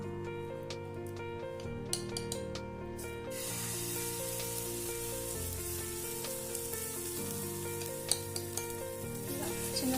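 A multigrain atta dosa sizzles in oil on a hot pan, a faint steady hiss rising after a few seconds beneath prominent background music, with occasional small clicks.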